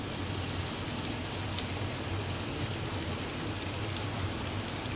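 Chicken pieces for Chinese orange chicken deep frying in a fryer basket give a steady, dense crackling hiss close by, continuous and even throughout with no talking.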